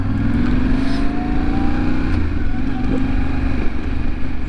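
A 2025 Yamaha Tenere 700 motorcycle rides at low speed, its engine a steady, close, low rumble with constant wind noise over it.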